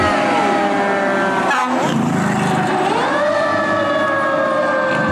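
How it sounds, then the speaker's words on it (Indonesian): A toy fire truck sounds its electronic siren, a loud steady wail of bright tones that sweep up and down in pitch, running continuously and close with no talking. "ada truk pemadam kebakaran"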